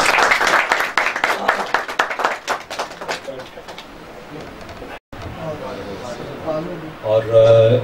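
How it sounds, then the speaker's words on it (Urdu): Clapping from an audience at an annual urs gathering, dense and loud at first and thinning out over several seconds, with a short break and then a voice speaking near the end. "آپ سب کی تالیوں میں۔"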